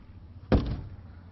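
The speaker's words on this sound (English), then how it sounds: "Or even sledgehammer your way into a home." A single heavy blow from a sledgehammer lands on a reinforced home door fitted with an Easy Armor kit, one loud, short thud that stands alone in a quiet room.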